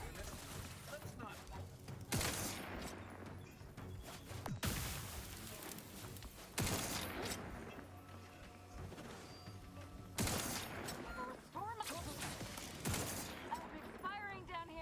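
Video game gunfire rings out in heavy bursts of automatic fire. Loud volleys come every couple of seconds over a constant battle din, and voices and other game sounds are mixed in.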